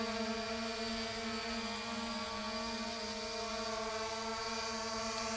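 A 3D Robotics Iris+ quadcopter drone flies itself back home over a ballfield, its rotors producing a steady, even buzzing hum with stable harmonic tones, moderately distant and alone throughout.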